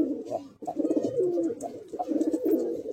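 Pigeons at a loft, a breeding pair among them, coo in repeated throaty rolling phrases, close and clear, several overlapping calls with short pauses and no talk over them.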